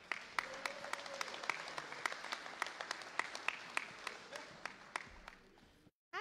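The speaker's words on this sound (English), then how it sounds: "Clap your hands for Angela Herlock." A crowd claps for Angela Herlock at a public safety bill signing, steady scattered hand claps with sharp individual slaps standing out, fairly close, then cutting off abruptly near the end.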